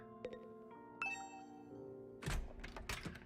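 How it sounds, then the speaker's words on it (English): A doorbell rings in The Hundred Line: Last Defense Academy video game, with a few bright chiming ding tones in sequence, followed by a louder clattering burst near the end. "Is that my doorbell?"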